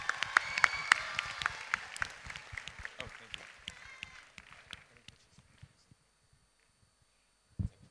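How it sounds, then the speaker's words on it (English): An audience at a junior debate showcase gives the debate teams a round of applause. Clapping starts loud and dense, then thins and fades to a few scattered claps before a brief bump near the end. "can we give them a round of applause"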